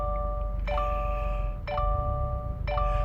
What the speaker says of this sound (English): can you hear how loud that bell is?